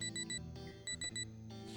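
Two sets of three quick electronic beeps, high and clear over a low droning game background.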